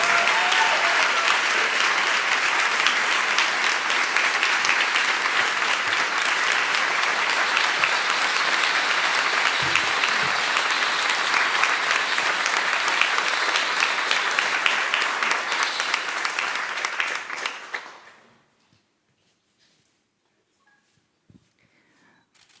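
Audience applause welcoming Nadya Tolokonnikova of Pussy Riot onstage at an artist talk, loud sustained clapping from a large crowd that holds steady, then fades out and drops to near silence.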